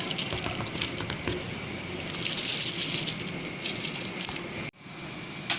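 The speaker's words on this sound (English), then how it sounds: "The water starts boiling, add the rice." Rice tipped into a pot of boiling water, heard as a steady, fairly loud bubbling and pouring rush close by that cuts off abruptly near the end before resuming quietly.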